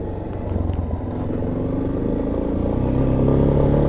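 A Yamaha XTZ Lander 250 motorcycle pulls away from a dealership, its engine a steady close rumble that builds slightly as it rides off, with no talking.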